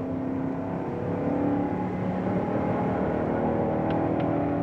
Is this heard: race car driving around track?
yes